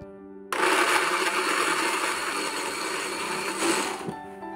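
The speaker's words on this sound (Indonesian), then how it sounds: "jadi saya pakai blender saja biar lebih praktis" A kitchen blender grinds cooking ingredients with a little water, switching on abruptly and running loud and steady for about four seconds before winding down.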